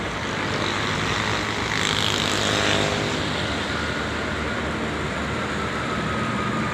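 A premium Makmur bus in Medan pulls out after being washed, its engine giving a steady, loud roar with constant rumbling noise that swells slightly midway, with no talk.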